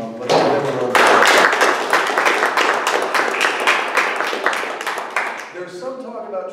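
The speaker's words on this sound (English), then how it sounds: "let's give them a round of applause" Audience at an academic talk breaks into a round of applause, distinct close claps building quickly, staying steady, then tapering off as a voice speaks at the end.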